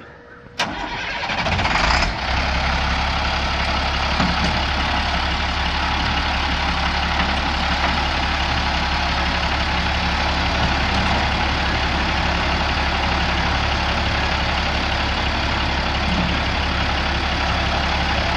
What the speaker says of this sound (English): Nice little plow truck for our 3 days a year it snows.